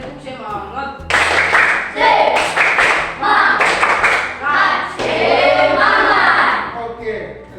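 A school class performs a rhythmic spirit clap, bursts of group clapping and thumping in a patterned beat, with a teacher's voice leading at the start and children chanting along throughout.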